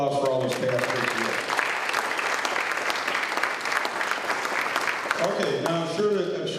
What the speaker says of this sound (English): So let's have a round of applause for all those past people.